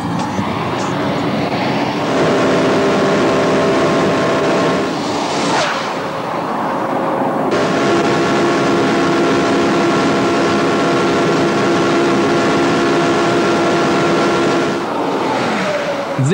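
A Porsche Carrera GT races a high-speed lap on a test track, its engine a loud, sustained, droning whine that shifts pitch at gear changes, with no voices over it.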